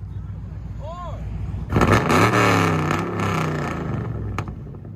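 A car with a modified exhaust sits quietly with faint background sounds, then a throttle blip launches into a loud, close, raspy rev that holds and wavers before easing off, with voices nearby.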